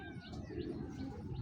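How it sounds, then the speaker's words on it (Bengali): A female pigeon at a pigeon farm coos in a steady, low, throaty rumble, close by and fairly quiet, with a soft bubbling texture running through the whole stretch. "এটা মাদি কবুতর"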